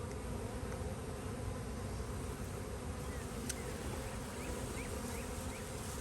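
Honey bees buzzing at an apiary during a swarm collection, a dense steady hum close by with no talk.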